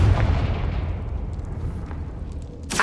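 A Confringo fire spell explodes in the Hogwarts Legacy video game, a loud deep boom that rumbles and fades, followed by a sharp burst at the very end.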